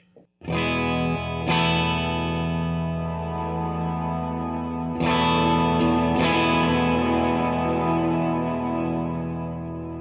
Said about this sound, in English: Just listen to the difference on the mixes between these two. So here's the reverb.